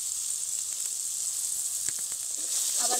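Cumin and coriander seeds hit hot oil in a frying pan with Kashmiri chilli powder while cooking a shankar fish (stingray) curry. They give a loud, steady sizzle and crackle that runs throughout, with a few stirring scrapes and no talk.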